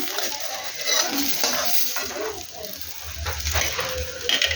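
Bata fish frying in a pan: a close hiss and crackle of hot oil, mixed with light scraping and clinks of a utensil against the pan, fluctuating in loudness.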